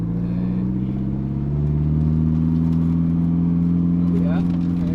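A 1998 Mitsubishi Eclipse GS-T engine hums steadily with a strong low drone while the car is driven hard through a roundabout, its pitch rising slightly as it pulls, heard from inside the cabin.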